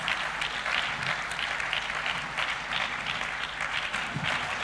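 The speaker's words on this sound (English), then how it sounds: "I'm sure he deserves a better round of applause" At a Lagos water conference, an audience gives the Lagos State governor a full round of applause, with many hands clapping at a steady level that holds for several seconds.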